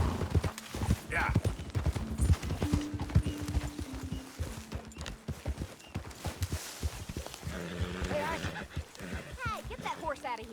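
Horse hooves clip-clopping in the video game Red Dead Redemption 2, a steady stream of close hoofbeats with a whinny, mixed with game music and voices talking.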